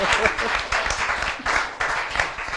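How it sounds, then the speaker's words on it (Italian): An audience applauds at a televised 2014 Mosole Grand Prix event, with steady, fairly loud clapping that swells in waves over a few seconds while some voices come through. "Guardi, un applauso"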